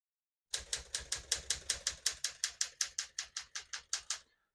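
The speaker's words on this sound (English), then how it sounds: "all the keys type nice and none of them skip or stick" About twenty crisp, evenly spaced keystrikes on a mint-condition 1963 Smith-Corona Sterling manual typewriter, each a sharp clack at a steady rhythm, close and alone with no talk.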